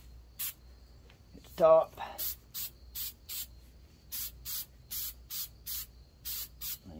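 An aerosol spray can coats deep drop fishing weights in about a dozen short, sharp hissing bursts in a steady rhythm, close and loud, with a brief spoken remark early on.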